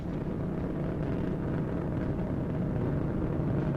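Space Shuttle Endeavour's three liquid-fuel main engines roaring during the STS-118 launch, a constant dense low rumble with wind-buffeted noise and no break throughout.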